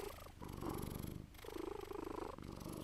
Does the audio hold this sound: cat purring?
yes